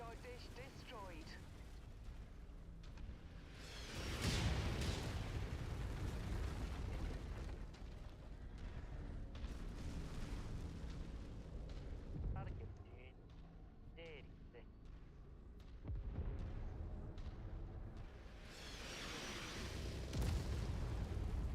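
A radar dish blown up in a BattleTech video game, heavy rumbling explosions swelling and fading in waves over a continuous low roar, with radio voices talking over it.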